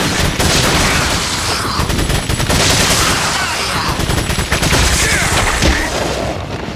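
Continuous loud submachine gun fire from a TMP in the video game Resident Evil 4, dense rapid bursts filling the whole stretch with heavy booming layered underneath and faint speech mixed in.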